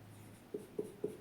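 Pen on paper in three short, quiet, evenly spaced strokes, writing out an example sentence, alone with no talk.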